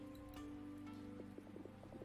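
Rain falls in the video game Universe for Sale, a faint, steady patter with scattered light drops and no voices.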